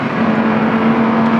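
A loud Lamborghini Huracan Performante engine hums steadily at high revs in sport mode and second gear, close up, with a constant droning tone and no voices.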